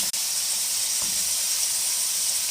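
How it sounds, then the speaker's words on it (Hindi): Mutton fries in a karahi with a loud, even hiss and sizzle, close and continuous after a brief knock at the start, no speech. "मटन को हम 5 से 7 मिनट के लिए अच्छे से फ्राई कर लेंगे।"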